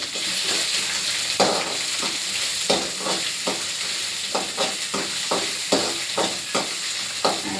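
Onions sizzle steadily in a hot pan, broken by regular scraping stirs of a utensil that give a rhythmic series of louder strokes over the constant hiss.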